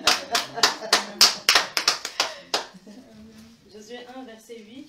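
A church congregation claps in quick, loud bursts of applause to acclaim the Lord during a French-language sermon, the sharp claps fading after a few seconds as voices take over.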